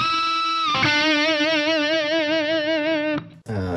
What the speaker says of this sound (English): Kind of opens it up even more with that plate reverb.